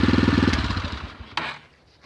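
An air-cooled 125cc motorcycle engine idles with a steady, rapid chugging pulse that fades and dies out, followed by a couple of faint clicks and near silence.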